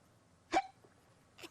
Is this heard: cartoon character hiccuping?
yes